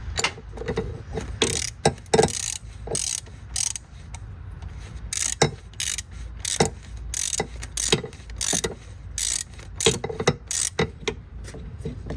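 Ratchet wrench clicking as a bolt is tightened on a Honda Pilot during a transmission fluid change, with repeated bursts of quick metallic ratcheting separated by short pauses, close and fairly loud with no talking.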